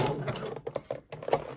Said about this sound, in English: just sew that second pass with the same zigzag stitch